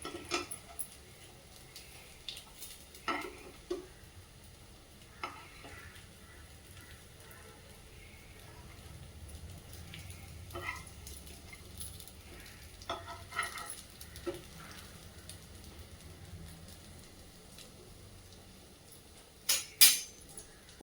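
Colocasia leaf rolls (alu mutke) pan-fry in a little oil with a soft, low sizzle. Occasional metal utensil clinks and scrapes against the pan sound faint and close, ending in a couple of louder taps.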